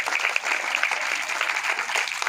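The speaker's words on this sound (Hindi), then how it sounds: "जरा एक बार तालियों से समर्थन करके बताएं कि कविता आप तक पहुंचेगी" An audience at a Hindi fortnight speech event claps together in sustained, dense applause that stays steady and fairly loud for the whole stretch.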